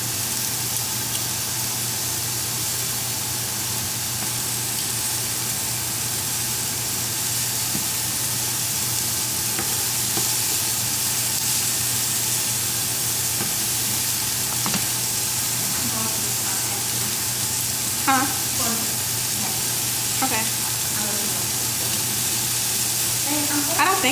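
Steak frying in a pan gives a steady, close sizzling hiss for the whole stretch, with a few faint clinks and brief rustles near the end.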